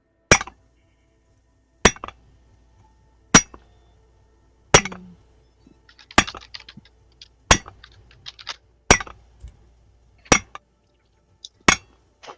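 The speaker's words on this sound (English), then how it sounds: "It's like a glass clacking." Sharp glass clinks ring out about every one and a half seconds, roughly nine in all, each a crisp isolated hit with a short decay, and faint small ticks in the quiet between them.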